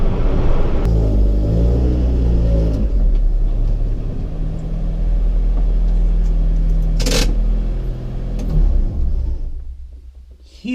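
A 1990 Honda Civic EF hatchback on new coilovers, steady engine drone and low road rumble heard from inside the cabin, with a brief sharp noise partway through and the drone fading near the end.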